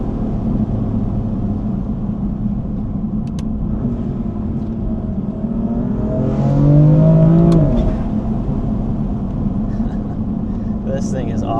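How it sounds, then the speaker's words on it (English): BMW M4 Competition F82 fitted with downpipes and aftermarket intakes, loud close engine accelerating with a rising rev sweep midway, then easing off the throttle while the drone continues. "It's almost the only thing you can hear when you just kind of partial get in the throttle and then let off, and that blow off noise is so good."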